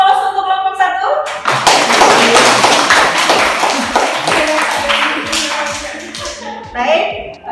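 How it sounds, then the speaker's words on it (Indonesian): Classroom applause for a student presentation group: a burst of clapping from many students, joined by scattered voices and shuffling, fading into sparse claps and then a few tapping hand claps near the end. "Aplaus untuk kelompok 1."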